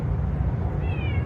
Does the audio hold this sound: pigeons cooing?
no